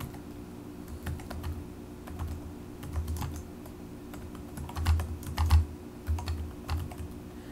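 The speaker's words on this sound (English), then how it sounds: "type in the title that you see there on top of page 2-32, which is Repetitive Strain Injuries" A computer keyboard being typed on while entering a document title in Word, bursts of quick close key clicks with short pauses over a constant low electrical hum.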